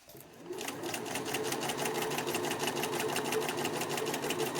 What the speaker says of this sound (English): This time you're going to sew over the shoulder seam allowances.